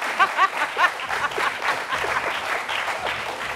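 A studio audience applauds on a French dating game show, with bursts of clapping that come and go under lively talk and a little laughter.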